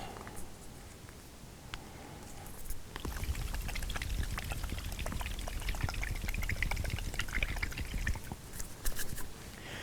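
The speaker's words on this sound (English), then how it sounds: "stick the cap on and give it a good old shake" A capped bottle of airbrush paint is shaken hard, giving a steady, close rattling slosh that starts a few seconds in and runs continuously for about five seconds before easing off.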